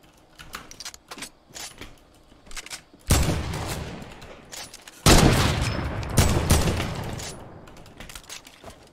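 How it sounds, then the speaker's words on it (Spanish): Close, loud gunfire bursts out twice in a Fortnite-style battle royale match, after a stretch of quieter, scattered rattles and clicks. "Ya, están disparando a otro lado."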